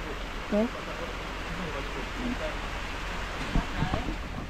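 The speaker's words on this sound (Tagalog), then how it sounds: "hihinto kaagad itong ulan na ito dahil mahina." Soft, steady hiss of light rain falling outside fills the background, with faint voices murmuring briefly beneath it.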